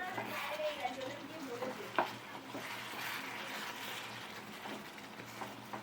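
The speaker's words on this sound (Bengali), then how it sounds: "মাংসটা আর একটু কষা হবে।" Meat being browned and stirred (kosha) in a pan gives a steady sizzle with soft scraping stirs, and faint voices sit in the background throughout.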